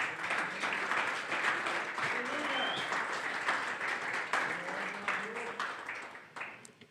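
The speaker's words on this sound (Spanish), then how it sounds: "Dele una ofrenda de palmas a nuestro Señor Jesucristo." Steady applause from a church congregation fills the space, a dense wash of clapping that continues for several seconds before thinning out near the end.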